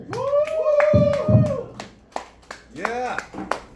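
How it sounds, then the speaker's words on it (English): Audience clapping to welcome a comedian at an open mic night in a bar, heard under an announcer's voice, with a few sharp isolated claps trailing off afterward. "Please give your hands and clap together for a warm welcome"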